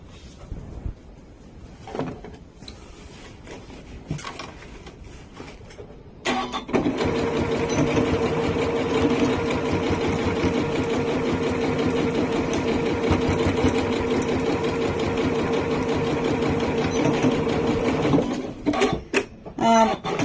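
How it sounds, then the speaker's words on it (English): A Janome sewing machine stitches straight across fabric, a close steady mechanical whir running for about twelve seconds after some handling clicks, with short bursts at the start and end for reversing. "I'm going to sew all the way across again, reversing at both ends"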